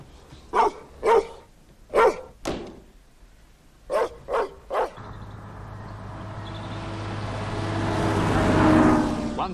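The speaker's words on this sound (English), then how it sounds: "What about the dog?" A dog barks in several sharp, separated bursts at moderate distance, followed by a rising rumble of a passing vehicle that swells toward the end.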